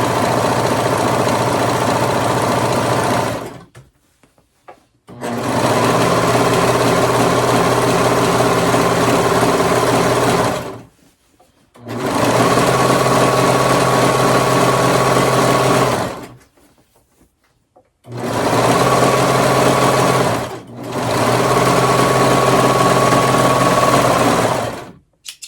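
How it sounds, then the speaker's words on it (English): Cover stitch sewing machine running on fabric, a loud steady mechanical whir in four long bursts of several seconds each, split by short silent pauses, close up with no talking. "So now I'm going to switch to my cover stitch."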